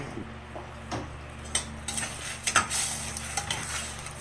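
A spoon stirs papaya and sardines with fish sauce in a pan, giving soft scraping and a few light clinks over a faint sizzle, close and quiet with no voices.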